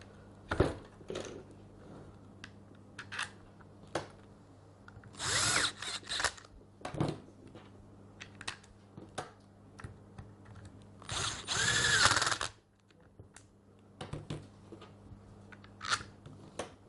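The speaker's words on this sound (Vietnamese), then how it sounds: "Rồi chúng ta sẽ siết 4 ốc." Screws being tightened one after another on a Bosch GSH 5 demolition hammer during reassembly, with intermittent clicking, ratcheting and short whirring bursts of a tool, close by and alone.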